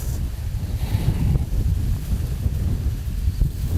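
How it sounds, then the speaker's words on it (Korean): Wind rushes past the microphone at a lakeside fishing spot, a loud, close, continuous low rumble with rising and falling gusts and no talk. "바람."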